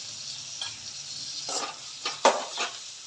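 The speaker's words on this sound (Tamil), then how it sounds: "தக்காளி நல்லா வதங்கட்டும்." Tomatoes with salt sauté in a pan as a faint, soft sizzle, broken by a few scattered scrapes and clinks of a spoon stirring, close but quiet, with no one speaking.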